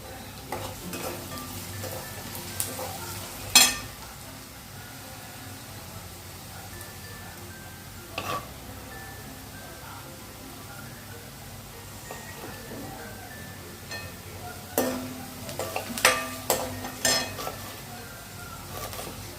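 Chili chutney sizzles and spits in a pan during the cooking of village-style pithla, a low steady crackle broken by sharp pops and metal clinks, with a voice talking at times.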